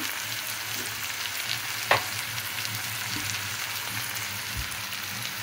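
Eggplant curry mixture with roasted cumin powder and salt frying in a pan, a steady soft sizzle throughout with one brief sharp crackle, no voices.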